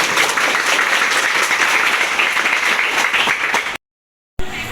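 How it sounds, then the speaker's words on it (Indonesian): Audience applause from a class session, dense steady clapping for almost four seconds before a sudden cut to silence and a brief resumption. "Oke, boleh tepuk tangan untuk kita semua."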